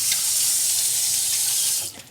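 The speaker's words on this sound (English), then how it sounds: "I just rinse this out now." Tap water runs steadily into a sink as a Kalita coffee brewer is rinsed, a close, even hiss that fades out near the end.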